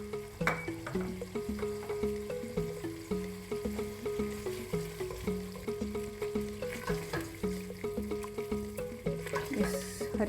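Tomato masala with green chilies sizzles in a pan for Lahori chane, with a spoon scraping and stirring in a steady, rhythmic pattern close by throughout.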